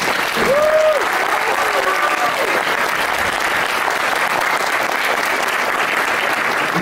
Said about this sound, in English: So please give these students a round of applause.